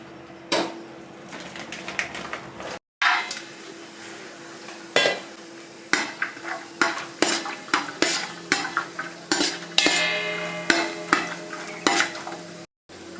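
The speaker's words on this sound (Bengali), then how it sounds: "দিয়ে দিচ্ছি অল্প সাদা তেল, কাজু কিশমিশটা ভাজবো" Cashews and raisins are fried in a little white oil in a pot for basanti pulao, with repeated scraping and clinking of a spoon against metal over a steady sizzle, close and continuous with brief breaks.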